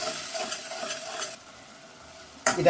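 Tomato puree with crushed ginger and garlic frying in oil for an egg curry, a close hissing sizzle that drops away briefly before flaring up again with stirring, no talk.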